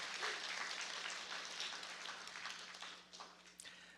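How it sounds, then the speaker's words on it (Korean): A church congregation at a Christmas Sunday service claps together, with fairly faint, rapid applause over a low steady hum that tapers into a few scattered claps. "박수하겠습니다."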